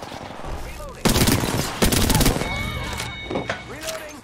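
Rapid automatic gunfire in the Apex Legends battle royale, loud bursts of shots in several volleys between quieter gaps, with distant in-game effects and pings layered in.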